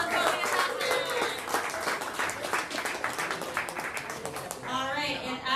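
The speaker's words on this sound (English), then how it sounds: "give yourselves a round of applause" Applause from a hackathon audience fills the room, steady broadband clapping throughout with some voices and cheers mixed in, fading slightly near the end.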